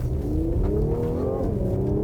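A 2018 Mercedes-AMG GLC 43 Coupe in Sport Plus mode accelerates hard, its engine note loud and close, rising steadily in pitch and briefly dipping at a quick gearshift before climbing again, with no voices over it.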